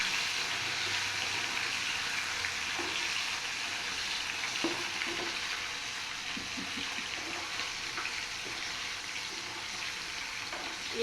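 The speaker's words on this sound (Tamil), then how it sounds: "அவ்வளோதான், நல்லா மொறுமொறுன்னு ஃப்ரை ஆகி" Green peas frying crisp in hot oil for a dry masala snack, a steady close sizzle with light scattered pops and a brief clink near the end, no voices.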